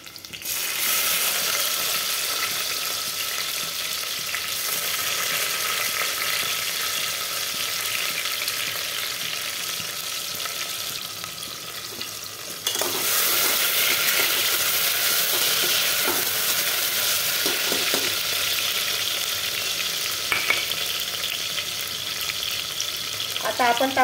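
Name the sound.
tomato frying in a pan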